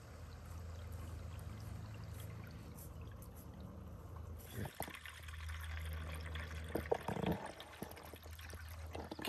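Water runs and splashes through outdoor garden hoses, a low gurgling flow that picks up midway with sloshing, pouring bursts and a few nearby knocks.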